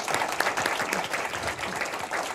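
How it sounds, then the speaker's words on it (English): An audience at a panel discussion of consuls general gives a round of applause, a dense, fairly soft spatter of clapping that stays steady throughout. "let's just give a big round of applause"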